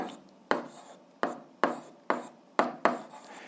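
Chalk or pen strokes of handwriting during an algebra lesson, seven sharp scratchy strokes at a steady, unhurried pace, each fading quickly, with no voice over them.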